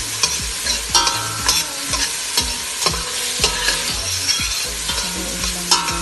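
Garlic rice and tomato are stirred in a hot pan, with regular scraping and clanking strokes of a utensil over a steady sizzle and no talking.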